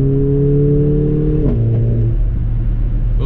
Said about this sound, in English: Those little pops and crackles in between the shifts is probably one of my favorite parts of this car.